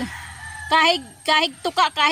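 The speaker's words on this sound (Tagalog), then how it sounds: "Basta manok." A chicken on a backyard plot clucks in a quick series of short, loud, nasal calls, close by.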